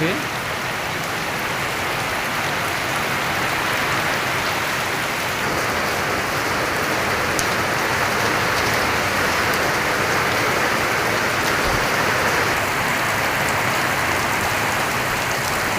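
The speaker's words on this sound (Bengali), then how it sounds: "এই বৃষ্টি মনে হয় আজকে আর নাও থামতে পারে যে অবস্থা মানে মুসলধারে আপনার বৃষ্টি হইতেছে" Heavy village downpour roars as a dense, unbroken wash of rainfall, loud and close, staying constant for the whole stretch.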